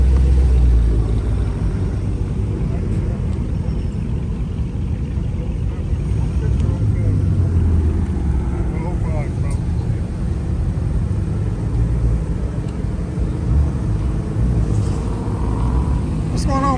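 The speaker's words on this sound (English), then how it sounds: "That's a red eye Hellcat." Dodge Hellcat Redeye engine idling at a Coffee and Cars meet in Oklahoma City, a steady deep low rumble running throughout under crowd noise.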